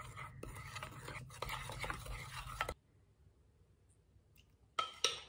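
A utensil stirs a glaze of liquid cream and icing sugar in a small bowl, giving close scraping and clinking for a few seconds, then near silence, then a brief clatter.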